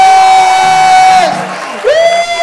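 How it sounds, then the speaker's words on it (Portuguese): A live show audience cheers and claps in a steady crowd roar, with long, loud sustained vocal whoops rising and falling above the noise. "Salve de palmas pra"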